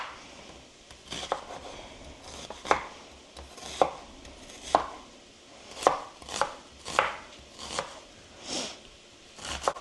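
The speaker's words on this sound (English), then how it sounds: "let's go ahead and chop the second onion" An onion being chopped with a knife on a cutting board for chili, crisp close thuds of the blade striking the board in an uneven series, some grouped in quick pairs.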